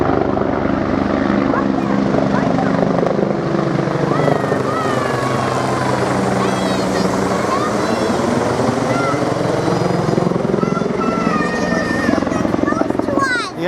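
A helicopter circling overhead, its rotor thump and engine drone loud and continuous, pitch sweeping up and down as it passes, with voices talking faintly beneath.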